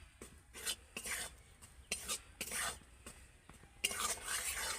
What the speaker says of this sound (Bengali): এবার আমি ময়দাটাকে হালকা করে একটু নেড়ে নেবো